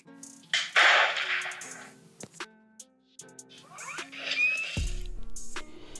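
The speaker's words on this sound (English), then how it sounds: "The guns are alright, but it's a little bit jarring because it's the exact same sound effect over and over" Sharp percussive bursts ring out in a Lego stop-motion fight scene, the same gunshot sound effect repeated several times amid other clattering hits and whooshes, with a heavier low thump near the end.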